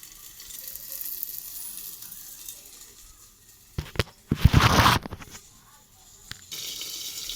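Koi and bhola fish fry in oil with a continuous sizzle, broken by a brief louder spattering burst as the pieces are turned over.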